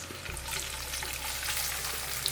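Slit green chillies frying in hot tempering oil for a ridge gourd curry, a steady close hiss and crackle of sizzling oil throughout, with no voices.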